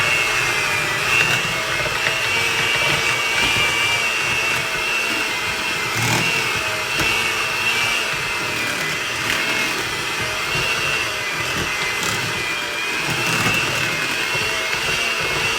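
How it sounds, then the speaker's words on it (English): An electric hand mixer beats sweet potato casserole at high speed, giving off a loud, continuous motor whine that holds steady without a break, with faint bowl noise underneath. "Turn your mixer up a little bit."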